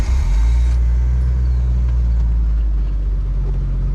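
A Jeep Wrangler YJ drives off-road along a sandy beach trail with a steady, loud low engine rumble and road roar throughout, and no talk.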